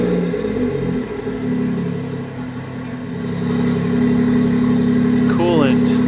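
A BMW engine turns over and settles into a steady running drone, with the revs rising toward the end and a short chirpy sound near the close.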